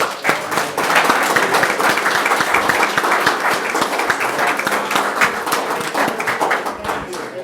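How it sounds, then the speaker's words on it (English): Audience applause at a county board meeting: steady, dense clapping from a modest crowd that fills the full stretch at an even level, with a few sharper individual claps standing out. "one more round of applause, please"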